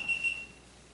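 A phone rings with a short, high electronic tone in two quick pulses that stop almost at once, heard clearly over a quiet room.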